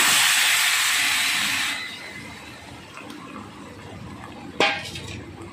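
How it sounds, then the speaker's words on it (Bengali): Marinated meat dropped into a hot, dry kadai with no oil, giving a loud burst of steamy sizzling hiss that fades after a couple of seconds into a quieter crackle, with a sharp clank of utensil against the pan near the end. "এবার মেখে রাখা মাংসটা আমি কিন্তু একটুও তেলেই না, শুকনো কড়াতেই দিয়ে দিচ্ছি।"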